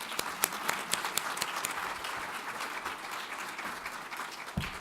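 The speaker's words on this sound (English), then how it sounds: "Let's give them all a round of applause." Audience applause for the panel speakers at a climate action evening talk, a steady wash of many hands clapping at moderate distance, fairly even throughout with no talking.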